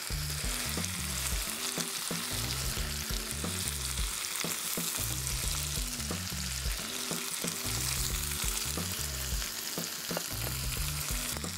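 Meat and potatoes for Georgian ojakhuri fry in a pan, a loud continuous sizzle with repeated stirring scrapes in a steady rhythm, close up and with no voices.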